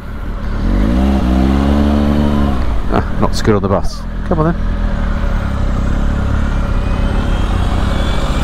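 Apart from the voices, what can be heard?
Triumph Speed Triple RS motorcycle riding through town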